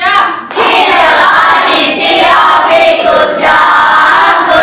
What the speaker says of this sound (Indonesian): Kita kasih tepuk good job.